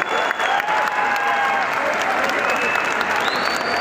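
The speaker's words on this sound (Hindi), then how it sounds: "जोरदार तालियां अब तालियां बजनी चाहिए" An audience at a school science exhibition award ceremony in Bageshwar applauds the medal winners with steady, close, full clapping throughout, thin tonal hum from a sound system lingering underneath.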